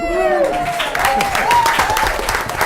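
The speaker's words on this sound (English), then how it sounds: "the crowd's going wild here" Steady applause fills a town Board of Selectmen's meeting room in Ashland, Massachusetts, continuous loud clapping from a crowd that holds for the whole stretch, with a voice audible over it.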